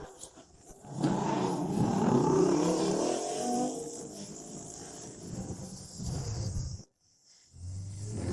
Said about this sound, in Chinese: 小川，骑摩托